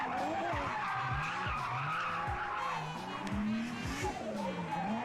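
Drift car with an RB26 engine sliding sideways through a long sustained skid, tires squealing continuously over loud engine revving that rises and falls in swoops, close and steady throughout.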